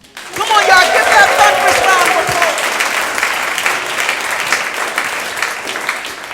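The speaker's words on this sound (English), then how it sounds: "thunderous round of applause" An audience at a talent show breaks into loud applause that starts abruptly and carries on steadily, with a few cheering voices rising over the clapping at first.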